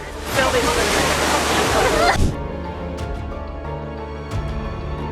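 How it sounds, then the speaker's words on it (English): Cyclone Winston's waves crash onto the rocky shore at Kayama in a loud roaring wash of water surging for a couple of seconds, then cutting to quieter rumbling with faint splashes. "Waves generated by Cyclone Winston transformed the rocky shoreline at Kayama into raging water within seconds."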